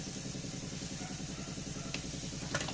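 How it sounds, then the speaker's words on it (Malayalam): Chilies sauté in a pan for Kerala-style kadachakka thoran, a constant close sizzle under a pulsing low hum, with a couple of brief clinks near the end. "മൂപ്പിച്ച് കൊടുക്കാം നല്ല പോലെ വഴന്ന് വന്നാൽ"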